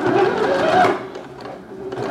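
An Elna 450 sewing machine stitching a cushion, a loud close mechanical whir running steadily for about a second before slowing and easing off, then resuming faintly.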